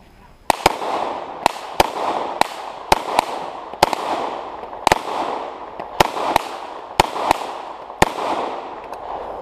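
SIG P226 MK25 pistol fired at bowling pins on an outdoor shooting range: a rapid, irregular string of about fifteen sharp, loud reports, each cracking out and decaying quickly, with no talk over them.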